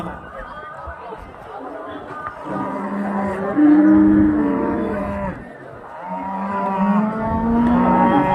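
Cattle moo loudly and close by at the Karimangalam cow market in Dharmapuri district, with long, low calls rising and falling over a background of crowd chatter and people talking.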